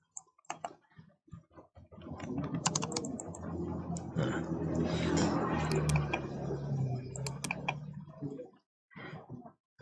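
Computer keyboard typing AutoCAD commands while drafting a floor plan, a steady run of close, quick key clicks for several seconds with brief pauses at the start and end.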